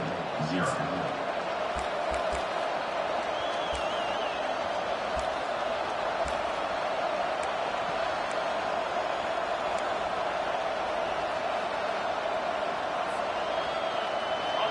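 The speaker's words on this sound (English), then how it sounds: "This crowd, full throat, spreading the eardrums and letting them know it's going to be a long day." A Notre Dame college football stadium crowd roars in a loud, steady wall of cheering that runs unbroken from start to finish, with a few sharper shouts near the beginning.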